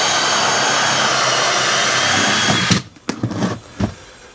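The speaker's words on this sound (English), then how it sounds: "Ryan's just drilling that one out now" A power drill fitted with a very long pilot bit bores a soffit vent hole, whining steadily and loud for several seconds before stopping, followed by a few short clunks and rattles.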